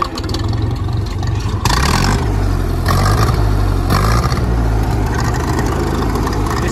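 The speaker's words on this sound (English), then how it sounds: "to start the tractor, you just simply do this" A Ferguson TED20 tractor engine cranks and fires up, then settles into a loud, close, steady chugging run with a rhythmic clatter and occasional surges.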